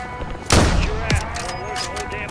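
Gunfire in a Call of Duty MW3 campaign mission: a loud burst of shots near half a second, a single crack just after one second, then a scattered exchange with faint voices underneath.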